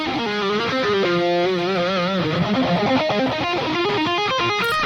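Sustained electric guitar chords with a sweeping, swirling phaser, played continuously and loudly with a wide stereo feel.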